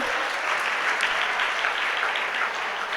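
Strong, continuous clapping from a school audience as students with 86 to 89 percent marks come up to be honored by teachers, a full room applauding at steady volume throughout.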